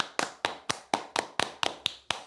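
A small group claps in a slow, even rhythm of about nine sharp, close claps, with no voices.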